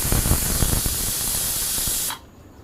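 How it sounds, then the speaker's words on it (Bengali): A loud, forceful hiss of excess steam escaping a pressure cooker after three whistles while cooking taro leaves, steady for about two seconds before cutting off abruptly. "প্রেশার কুকারের অতিরিক্ত বাষ্পটা বের করে নিয়ে"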